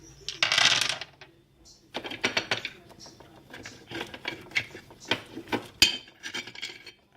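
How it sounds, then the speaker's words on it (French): Small phosphorescent pebbles from a small wooden aviary being handled and shifted, a run of sharp clicking and rattling clatters in irregular bursts, close and fairly quiet. "Des petits cailloux phosphorescents."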